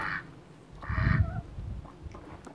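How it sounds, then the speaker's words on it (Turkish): Ducks quack outdoors near a spot where chickens are being fed, a couple of nasal calls rising over a low rumble of background noise, moderately close and otherwise unaccompanied. "Ördekler."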